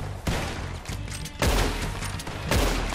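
Gunshots ring out in Red Dead Redemption 2, three loud close shots spaced about a second apart, each with a sharp crack and a rumbling tail, no talking.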